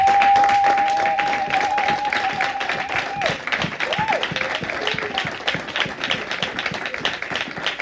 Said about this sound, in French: Levons-nous et applaudissons pour la parole de Dieu.